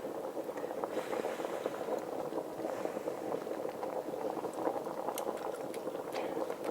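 Pasta cooking in a pot of boiling water, a steady, dense bubbling and rolling churn that holds at a moderate level close by, with no talking.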